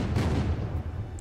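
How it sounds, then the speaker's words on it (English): MK2 gunfire in the Unturned video game, a burst of heavy booming shots close and loud that rolls through the short clip with no talk. "getting shot at by an MK2"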